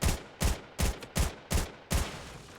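P90 rounds fired point blank into a wooden wall in Fortnite, a steady run of six loud, evenly spaced shots with short decaying tails, no talking.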